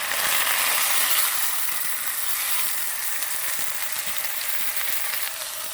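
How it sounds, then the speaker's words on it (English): Pork sizzles steadily in a very hot pan, a dense, even hiss of frying fat with small crackles running throughout and no voices. "We're going to sear this in the pan."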